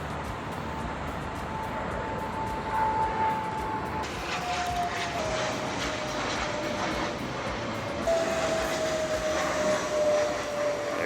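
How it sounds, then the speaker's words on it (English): An airplane takes off near East Rutherford, New Jersey, its engine roar a steady, fairly loud drone that swells slightly in stages. "I'm actually going to see if I can show you one of those planes taking off."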